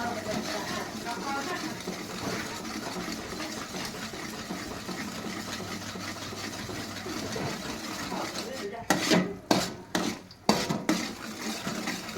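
A puffed rice laddu mixture is stirred in a pan over medium heat. A soft steady scraping runs under the background hum, then a few loud metallic clanks of spoon on pan come near the end.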